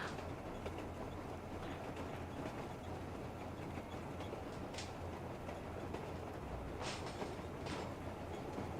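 Train ride in the video game Metro Exodus, a steady low rumble of rolling rail wagons with faint rhythmic clatter and a few brief high squeals, continuous and fairly close throughout.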